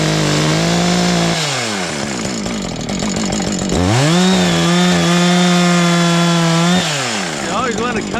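A chainsaw cuts through a downed tree while clearing a trail. The engine revs up and down with long, loud, steady stretches at high pitch, close by and continuous, with possible faint talk underneath.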